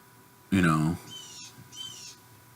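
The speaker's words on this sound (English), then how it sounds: "Hear that bird?" A loud, harsh call is followed by two high, thin whistled bird calls at moderate distance over a quiet background.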